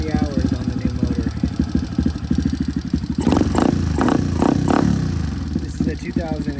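A Kawasaki KLX 110 pit bike with a freshly rebuilt, hot-running motor putters at idle, then is blipped into several sharp revs midway before it settles back to a rough idle, loud and close.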